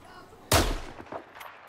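Gunfire in a video game, fired through a map filled with smoke: one loud close shot burst followed by a few quieter scattered shots, with no talk.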